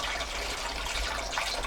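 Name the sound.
water poured from large carrier into 5-litre bottles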